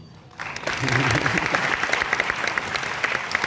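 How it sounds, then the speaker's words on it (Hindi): Applause breaks out abruptly from an audience at a university Constitution Day function and keeps going loud and steady, with speech mixed in over the clapping. "तालियां कमजोर हैं।"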